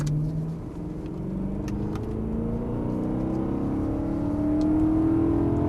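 A BMW M3 E92 V8 accelerates steadily on a circuit, its pitch rising smoothly as revs build, loud and sustained with a low rumble underneath.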